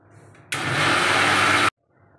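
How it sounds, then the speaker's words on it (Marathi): Kitchen mixer blending mango pieces with milk and sugar, a loud steady whirring roar lasting just over a second that starts and stops abruptly, with quiet background before and after. "आणि छान मिक्सरला फिरवून घ्यायचं आहे।"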